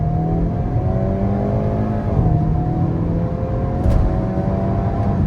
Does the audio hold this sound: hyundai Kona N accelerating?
yes